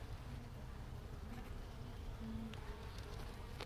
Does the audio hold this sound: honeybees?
yes